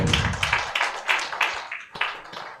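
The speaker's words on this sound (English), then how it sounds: "Let's give him a round of applause as he makes his way here." Light, sparse applause from a small townhall forum audience, a few distinct claps and taps in an irregular rhythm, fairly quiet and brief, with no talking over it.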